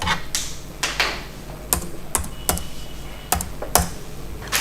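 Computer keyboard keys are tapped in short irregular bursts while a one-time password is entered, with distinct close clicks spaced across a quiet background.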